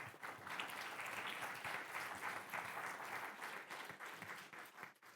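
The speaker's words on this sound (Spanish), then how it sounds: "Denle un aplauso a Dios." A church congregation claps loudly and continuously, a dense wash of many hands filling the room for several seconds before tapering at the end.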